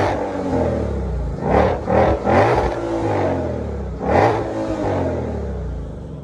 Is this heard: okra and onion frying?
no